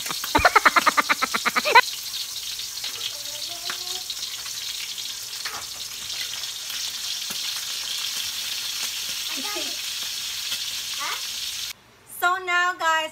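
Pork pieces fry for pork humba in hot oil, hissing and spattering steadily with irregular pops, and a couple of brief voices are heard near the end.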